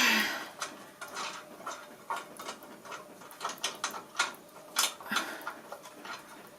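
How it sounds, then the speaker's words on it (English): Screws being undone from the top of a machine, a quiet run of metallic ratcheting clicks and small scraping ticks in an uneven rhythm, close by with no talking. "So we're taking the screws off the top."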